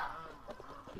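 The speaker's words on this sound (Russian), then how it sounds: "Это гуси" Backyard geese give a short burst of honking, a nasal call near the start followed by a few softer, scattered honks close by.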